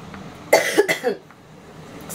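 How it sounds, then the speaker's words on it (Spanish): Someone with a lingering cough at home in the morning lets out a few quick, harsh coughs in close succession, loud and near, followed by quiet room tone. "Sigo todavía con la tos."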